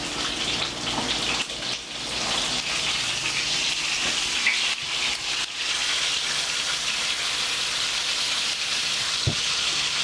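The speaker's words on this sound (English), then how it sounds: "add water to fill line." Water pours steadily into a rice cooker in a continuous gushing stream for several seconds, with a few small clinks near the end.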